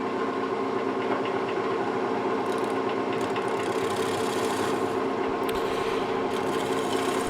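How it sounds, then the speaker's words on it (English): A wood lathe turns a green apple wood bowl with natural edges, giving a steady mechanical hum under continuous soft scraping as shavings peel off, constant and close with no talking. "enjoy the shavings coming off of this beautiful piece of apple wood"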